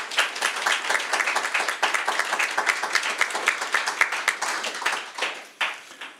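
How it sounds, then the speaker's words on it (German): Listeners at a university campus talk with an economist applaud after an introduction, many hands clapping in a distinct, moderately loud patter that thins out into a few scattered claps at the end. "Also Applaus darf man machen."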